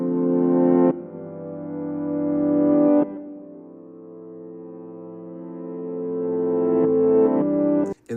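A reversed sound made in FL Studio, sustained droning tones that swell gradually and then cut off abruptly, repeating in long rising phrases with no voices.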